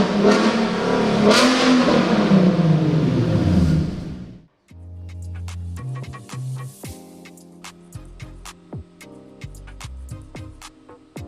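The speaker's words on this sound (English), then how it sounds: "they decided to start it up and give it a few revs" A Nissan 370Z engine running without exhaust roars and revs hard for a few seconds, loud and raw, then drops off into a rough, uneven idle with sharp ticking pops.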